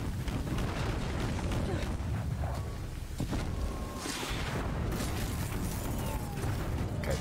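A machine enemy in Horizon Zero Dawn firing at random, producing continuous rumbling booms and blasts with a slight lull near the middle, while a voice speaks over the battle noise.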